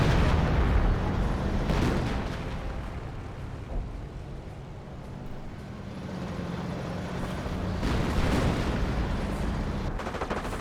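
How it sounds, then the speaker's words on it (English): Tank cannon fire in a Company of Heroes battle, heavy booming blasts that roll out near the start and again later, over a continuous din of combat noise. "Enemy armor firing."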